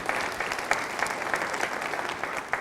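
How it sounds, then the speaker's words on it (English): Steady audience applause at an evening university lecture event, a dense, even wash of many hands clapping at moderate distance, continuous for the whole stretch with no voices. "A round of applause for all of you."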